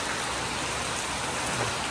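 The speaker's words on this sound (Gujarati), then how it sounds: "વરસાદ આવે છે અત્યારે થોડોક ધીમો થઈ." Steady rain pours in a village, a dense even hiss of drops on surfaces filling the whole moment without a break, close and continuous, with no voices.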